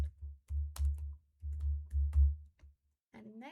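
Soft clusters of keystrokes on a computer keyboard come in short bursts with brief pauses while entering text into a spreadsheet, quiet and close, with a faint voice starting at the end.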